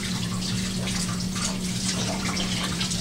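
Warm tap water runs steadily over a plastic ice mold in a sink, a constant close splashing stream.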